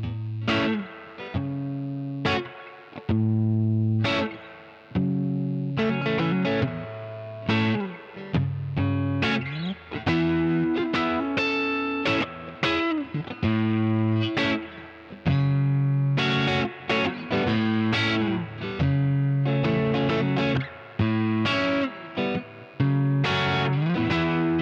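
Electric guitar played through a Koch Studiotone 20 tube amp head with reverb, a series of strummed chords and picked notes ringing out with a warm, slightly driven tone and lingering tails, no voices.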